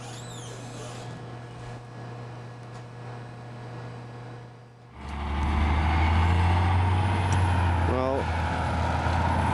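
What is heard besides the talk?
bus driving away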